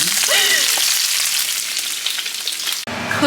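Sausage frying in a pan for homemade pizza gives a loud, close, continuous sizzle with crackling pops, broken by a brief cut near the end.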